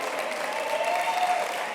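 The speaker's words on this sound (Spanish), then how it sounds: "un aplauso a los monos" Steady crowd applause at a youth church gathering, a brief dense wash of clapping at moderate volume with no talk over it.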